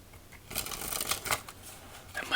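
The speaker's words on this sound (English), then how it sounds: "one more shuffle" A silver Metalluxe Bee deck of playing cards is shuffled close up, a fluttering riffle of cards building and then releasing, ending with a soft snap as the deck settles.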